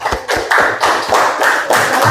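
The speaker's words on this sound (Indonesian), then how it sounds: "Kita kasih tepuk tangan untuk kelompok 3." Classroom applause for a student group after their presentation, a dense burst of many hands clapping close and loud, with sharp irregular slaps running continuously for about two seconds.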